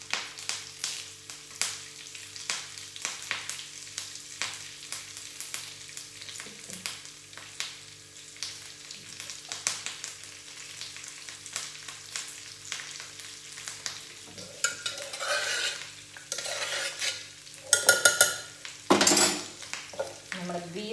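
Curry leaves frying in a pan with a steady crackling sizzle, punctuated by repeated close scrapes and taps of a spoon stirring against the metal, growing louder and busier toward the end.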